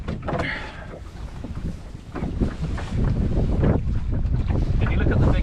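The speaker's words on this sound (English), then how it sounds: "There we go, we're sailing." Sailboat under way on a loch in steady wind, with a continuous roar of wind over the microphone and water rushing along the hull, growing slightly louder toward the end; a faint voice now and then underneath.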